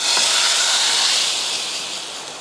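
Hot dal tadka tempering with chilli powder is poured into cooked dal for a dhaba-style dal fry and sizzles loudly right away. The close, steady hiss fades only slightly over a couple of seconds.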